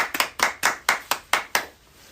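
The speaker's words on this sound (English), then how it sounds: "The golf clap is all the motivation I need." A small group gives a soft, polite golf clap at a casual winter social gathering: about seven or eight light, evenly spaced claps, close and clear, fading out after two seconds.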